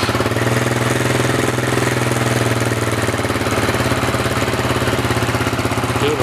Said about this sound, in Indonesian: Okay, motor boleh hidup.